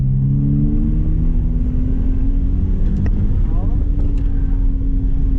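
A car pulls away and accelerates on an autocross course, its engine rising in pitch through close, steady revs with a short dip as it brakes, while an instructor talks over it.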